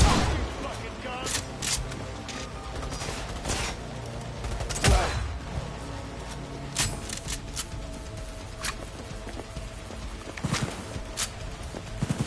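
Gunfire in the Cyberpunk 2077 video game: sharp, scattered shots and bursts crack out irregularly over a busy game soundscape, with one heavier blast near the middle.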